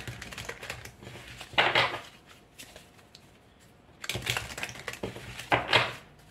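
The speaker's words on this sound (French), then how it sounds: "Je vais tirer les cartes." Tarot cards being drawn and handled, heard as a few bursts of crisp shuffling and snapping card noise separated by quieter pauses, close to the listener, with no talking.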